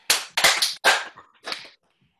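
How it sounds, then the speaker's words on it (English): A small group claps in unison three or four times at a cardio and dance fitness class, sharp close bursts with short gaps between them and then quiet. "can you guys give me three claps?"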